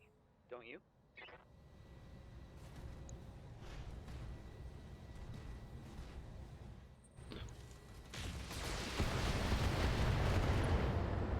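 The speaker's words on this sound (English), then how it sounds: "I ripped his left arm off and caused an SRM explosion" Rumbling blasts and crackling detonations from mech combat in BattleTech, including an SRM ammunition explosion, building to a loud sustained roar near the end, with a voice talking underneath.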